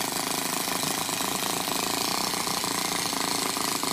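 A Toyan FS-S100A miniature four-stroke model engine running steadily, a loud, dense, buzzing drone with rapid rhythmic firing pulses, close up and continuous, no voices.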